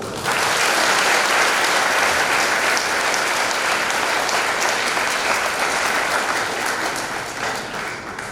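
Sustained clapping from a congregation at a Saint Michael Archangel patronal feast, loud and dense, holding steady for about eight seconds before easing slightly.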